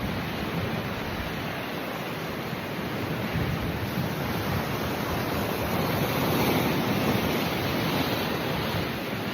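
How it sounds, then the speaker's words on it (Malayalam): Steady, roaring wind buffets the microphone, blending with a broad wash of surf, continuous and fairly loud with no voices. "നല്ല കാറ്റാണ് ഗൈസ്, നല്ല കാറ്റ്."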